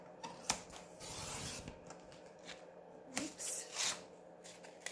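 Scissors snip through paper card along a scalloped edge, a close run of short rubbing, rasping cuts with a few sharper snips toward the end, quiet and without talk.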